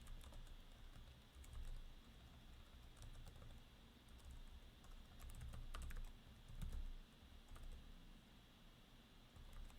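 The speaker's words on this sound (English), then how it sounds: "I'll try to retype the URL." Fast computer keyboard typing clatters in quick bursts of key presses, close to the mic, with short pauses between flurries and no talk over it.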